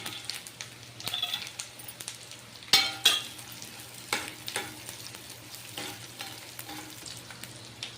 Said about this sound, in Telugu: ఇవి బాగా వేపుకోవాలన్నమాట. కొంచెం ఎర్రగా వచ్చేదాకా వేపుకొని